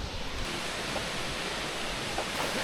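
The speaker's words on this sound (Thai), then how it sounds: "เอาจริงเป็นน้ำตกญี่ปุ่นที่ สวยที่นะก็ตกแรงอยู่" Strongly falling waterfall near Sendai, Japan, heard as a soft, steady rush of water from some distance, brief and without voices.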